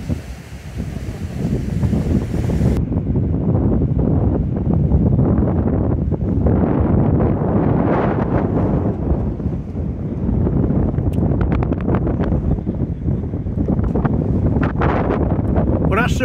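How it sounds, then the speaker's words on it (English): Strong wind blows along the seafront at Backbeach near Polly Steps, buffeting the microphone with a loud, continuous low roar and gusty rumble that persists throughout. "Let's try and get out of the wind now, if that's possible."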